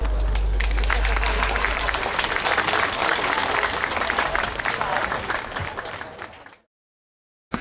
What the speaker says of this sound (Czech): potlesk ještě jednou pro děti ze základní školy Jungmannova